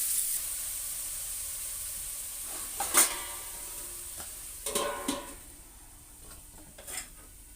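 Onions frying in a pan for a mutton liver and fat kosha, with a low steady sizzle and a few scraping stirs and clinks from a utensil, no one speaking.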